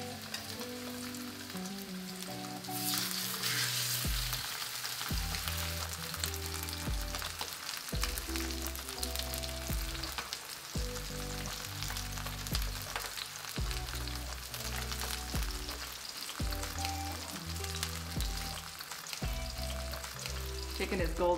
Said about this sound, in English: Just like that, you wanna hear it sizzle.